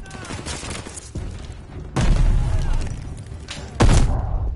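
Game grenade explosion in Call of Duty: Vanguard: two loud, sharp booming blasts amid scattered gunfire, the second hitting near the end, with a voice talking over the battle noise.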